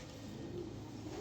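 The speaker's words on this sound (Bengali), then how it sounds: "2টা কবুতরই জটিল, এক জোড়া কবুতর" A pair of pigeons, a racer and a gerebar, give a low, soft cooing that is close and sustained over a quiet indoor hush.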